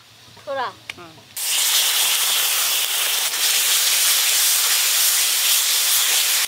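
Grated onion hits hot mustard oil with a sudden loud burst of sizzling that continues as a dense, steady hiss, close up; a voice speaks briefly just before the onion goes in.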